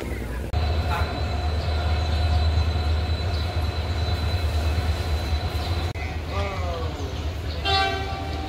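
A passenger train pulls into a hill-country railway station, its steady loud rumble and rolling wheels filling the scene, with a sustained horn tone and brief squealing near the end.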